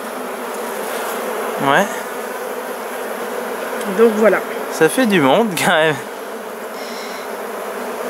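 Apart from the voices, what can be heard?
honeybees buzzing at an apiary hive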